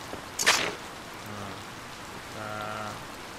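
Rain in the Harvest Moon farming video game, a soft steady patter with one brief sharp burst near the start and faint game tones chiming behind, no voices.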